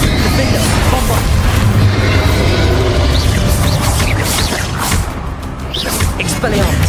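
Spell explosions boom and crash in the Hogwarts Legacy video game on PS5 Pro, loud and dense bursts layered with whooshes and combat effects throughout.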